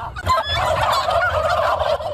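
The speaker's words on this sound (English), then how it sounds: "What a soothing sound. Of the turkeys." Turkeys on a turkey farm gobble in a loud, dense chorus of overlapping warbling calls that runs continuously with no speech.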